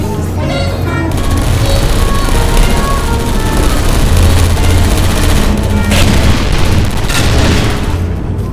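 Turrets fire in the video game Portal Stories: Mel, a loud, continuous barrage of rapid gunfire with heavy booming impacts that runs without pause.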